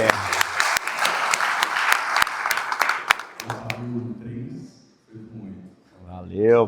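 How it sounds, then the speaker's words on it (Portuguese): A room of people applauds in a burst of dense, close clapping for about three seconds, then it thins out and gives way to a Portuguese-speaking voice talking. "uma salva de palmas para todos vocês"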